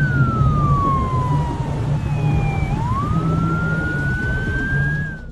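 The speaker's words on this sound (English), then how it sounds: "Sirens from police vehicles can be heard as law enforcement gets ready to respond" A police siren wails, sliding down in pitch and then rising again, over the low rumble of nearby traffic.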